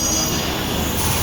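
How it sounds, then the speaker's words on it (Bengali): The Uttarbanga Express pulls out of Sealdah station with a loud, steady rumble of rolling stock and a continuous metallic wheel squeal, heard close and alone for a brief moment. "আমাদের ট্রেন এখন শিয়ালদা ছেড়ে দিল।"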